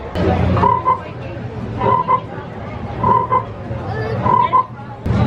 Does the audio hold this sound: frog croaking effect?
yes